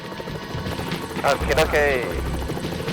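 A police helicopter operating at night gives a steady low engine and rotor drone beneath a brief spoken word and radio-like chatter.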